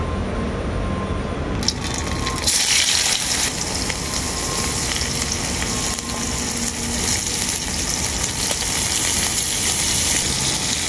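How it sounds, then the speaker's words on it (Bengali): Carrots, green beans and capsicum fry in hot oil with a loud, steady sizzle that jumps up sharply after a brief quieter start and then holds at a dense, even hiss. "এরপর আমি সবজিগুলো ভেজে নেব"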